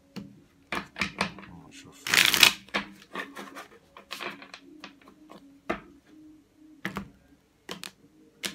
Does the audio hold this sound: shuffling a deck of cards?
yes